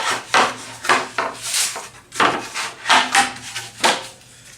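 Plywood runner of a circle-cutting jig sliding onto a saw for a table saw or bandsaw: repeated close wooden scraping and rubbing strokes, dry and rhythmic, with no talking.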